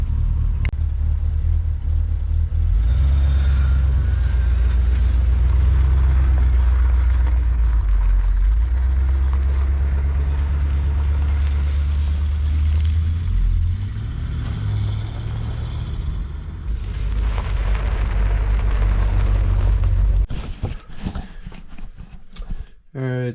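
A barn-find Corvette being driven after a vacuum leak repair, its engine a loud steady low rumble throughout with shifting revs, dropping off near the end.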